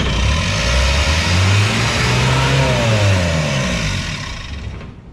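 A Morris J2 van engine roars with the throttle held wide open, a loud sustained revving drone close by that wavers in pitch, then begins to drop away near the end.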